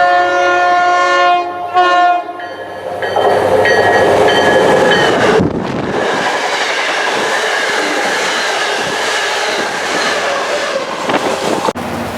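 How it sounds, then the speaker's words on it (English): Keolis-operated MBTA commuter train at Readville, cab car 1800, sounds a loud sustained horn blast near the listener, followed by the steady roar and rhythmic clatter of cars rolling past. "We then see Keolis 716, which had road and cab car number 1800, had a very nice sounding horn."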